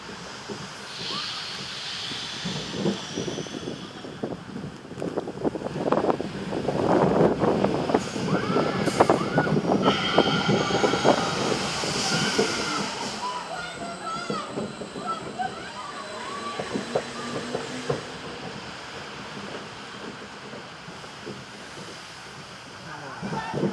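Kamelen, the camel-trail roller coaster at Tivoli Gardens, ridden with a rumbling train and rushing wind noise that swells and fades, plus riders shouting and talking along the way.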